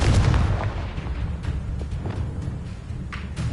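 Confringo fire blast spells bursting in Hogwarts Legacy combat, a loud booming explosion at the start followed by a rumbling, crackling tail and a few smaller thuds.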